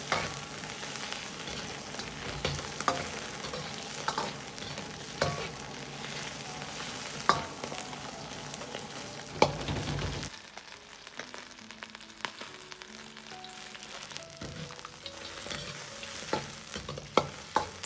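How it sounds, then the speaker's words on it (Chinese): Pork ribs stir-frying in lard over medium heat in a wok, a loud continuous sizzle broken by repeated scraping strokes of a spatula, easing into quieter crackles with sharp clacks in the second half. "下入控干水分的排骨煸炒，炒出排骨表面多余的水分，炒出香味"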